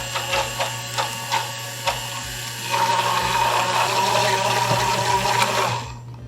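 Immersion blender emulsifying chocolate ganache with Saint-Rémy, starting with a few short pulsed bursts and then running in one steady whirring stretch before cutting off.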